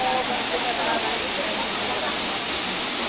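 Loud, steady roar of rushing water from Anghalo Falls in San Felipe, Zambales, a dense continuous hiss with a voice faintly heard underneath.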